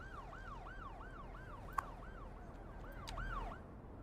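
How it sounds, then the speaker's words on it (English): Ambulance siren in the Cities Skylines 2 city-building game, a wailing two-tone sweep repeating steadily about twice a second at moderate distance, faint behind a low ambient city hum. "Ambulances are quite loud."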